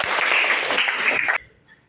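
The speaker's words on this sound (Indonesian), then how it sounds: "Tepuk tangan buat Dr." A classroom of students gives a quick burst of dense applause for a teacher, loud and close, cutting off abruptly to near silence.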